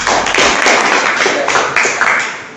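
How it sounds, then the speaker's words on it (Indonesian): A small group in a classroom guidance session claps hands loudly and closely for a couple of seconds, a dense burst of claps that gradually fades. "Sudah, tepuk tangan buat semua."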